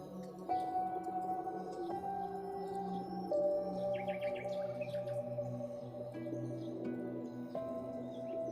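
Pigeons kept by a pigeon club call in short tonal coos and chirps over a faint steady background hum, several overlapping calls coming and going at moderate distance, with no talking.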